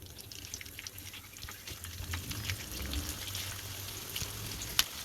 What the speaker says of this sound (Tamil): இதையும் மீடியம் ஃப்ளேமில் வச்சு நல்லா பொறிச்சு எடுத்துக்கலாம்